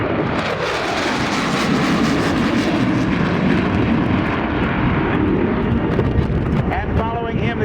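An F-4 Phantom II fighter jet makes a high speed pass at the 2012 NAS Oceana air show, a loud, sustained jet roar with wind buffeting that fills the whole stretch without letting up.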